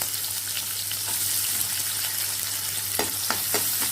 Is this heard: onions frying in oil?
yes